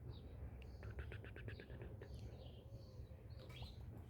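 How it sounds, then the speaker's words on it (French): A small bird in a garden gives a quick series of bright, high chirps, a rapid run of short notes followed by a few scattered calls, fairly faint over a low steady background rumble. "Et là, il y a un petit oiseau."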